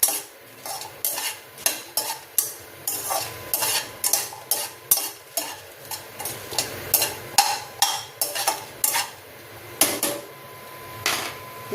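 Grated coconut sautéing in sesame oil is stirred in a pan with a series of quick, rhythmic scraping strokes over a soft, low sizzle.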